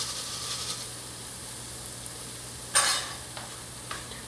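Breadcrumbs toast in rendered pork fat in a pan with a soft, steady close sizzle, broken by a sharp stirring scrape and a few lighter scrapes afterward.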